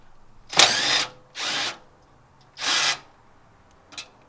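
Power tool whirring in short bursts while removing turbo downpipe bolts during a Cobb Stage 2 install: four brief runs, the last very short, close and loud with quiet gaps between.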